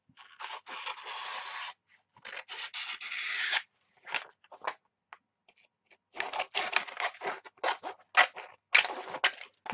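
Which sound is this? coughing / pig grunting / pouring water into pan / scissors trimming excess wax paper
scissors trimming excess wax paper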